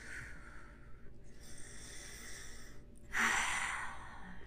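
Deep breathing during a core-focused yoga exercise on a mat: a long, soft, airy breath sound, then a louder, fuller exhale near the end, close and alone without speech.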